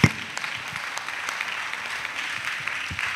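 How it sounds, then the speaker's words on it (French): Audience at a missionary retreat in Côte d'Ivoire claps in a brief, moderately loud burst of scattered applause with a sharp start, fading slightly over a few seconds. "Vous avez bien applaudi."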